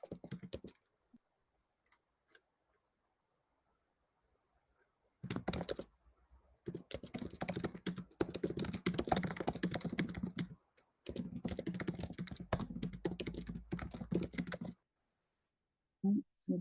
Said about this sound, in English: Somebody's typing away